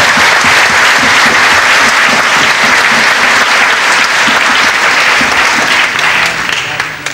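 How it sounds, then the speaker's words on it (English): A loud crowd at a movie premiere applauds the film, heavy continuous clapping close and full for several seconds before easing off slightly near the end. "I would like all of you to get your hands together to applaud this film"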